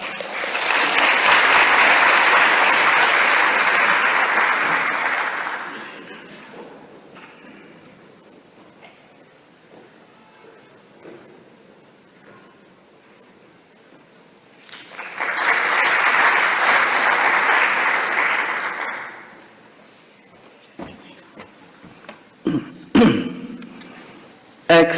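A conference audience at a World Water Forum 2024 reception applauds to welcome a government minister, with two loud, sustained bursts of clapping separated by a quiet stretch, followed by a few scattered knocks.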